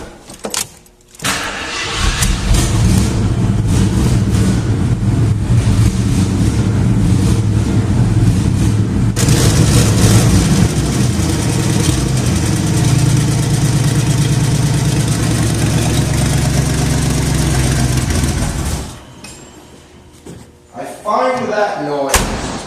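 A Jeep engine cranks, fires up and settles into a steady, loud idle close by, running for about eighteen seconds before cutting off, followed by a few faint rattles and clicks.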